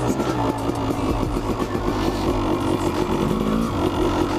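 Honda CR250 two-stroke dirt bike ridden across slippery wet grass, its engine loud and close with continuous revving and throttle surges throughout.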